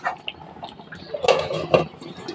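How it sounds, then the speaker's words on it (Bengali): A lid set on a cooking pan of mustard hilsa fish gives a couple of light metallic clinks and taps close by, over a soft kitchen background. "দেওয়ার পরে আমি কিন্তু এখন ঢাকনা দিয়ে কিন্তু"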